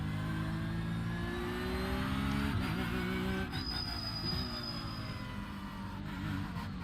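Pack of Porsche 911 Cup race cars in iRacing, engines droning and revving together in a dense steady roar with rising and falling pitch as they accelerate, loud and continuous throughout.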